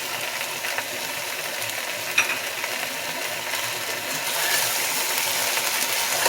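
Tofu and bean curd curry is stirred gently in a pot, with a soft, steady scraping and simmering texture that runs throughout and a few faint clinks of the spoon against the pot.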